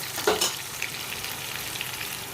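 Mint paste sizzling and frying in a pan over a low flame, a steady close crackle with a brief stir or scrape near the start and no talking.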